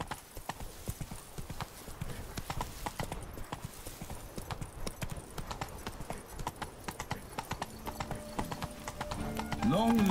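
Roach's hooves pound in a quick gallop in The Witcher 3 and stay loud and clear. A whinny and a voice come in near the end as the horse slows.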